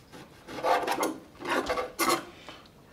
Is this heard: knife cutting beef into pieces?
yes